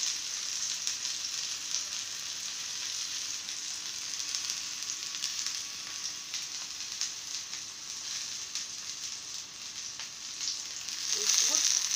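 Sliced zucchini fries in a pan for a countryside breakfast, giving a steady, close hiss and crackle of oil that runs unbroken throughout, with no talking.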